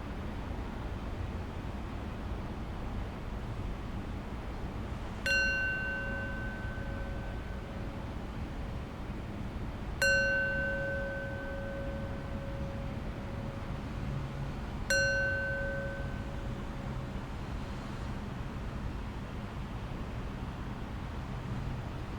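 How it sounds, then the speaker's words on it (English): A meditation bell struck three times at steady, widely spaced intervals, each clear metallic tone ringing out and decaying slowly over a quiet background hiss, with no voices. "I'll close practice with 3 rings of the bell"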